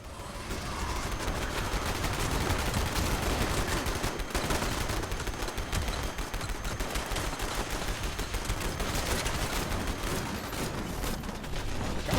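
Dense, continuous automatic gunfire from the video game Fallout 76 rattles nonstop and loud for the whole stretch, with rapid overlapping shots and no audible talk.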